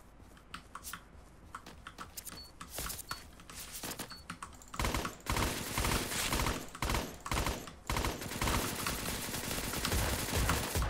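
Gunfire in the top-down battle royale Surviv.io, with Saiga and SPAS-12 shotguns in play: faint scattered shots at first, then dense loud rapid volleys that continue steadily, mixed with keyboard tapping.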